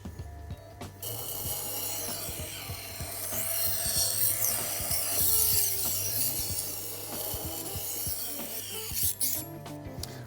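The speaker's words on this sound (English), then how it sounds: "Then I turn the machine around and I sharpen the other side." A fillet knife is drawn against a powered sharpening machine, producing a continuous bright rasping grind over a low motor hum that swells slightly through the middle, with no speech.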